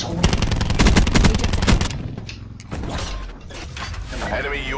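Rapid automatic gunfire from a Call of Duty Black Ops 4 multiplayer match, a dense close burst for about two seconds, then scattered shots and mechanical clatter with game effects.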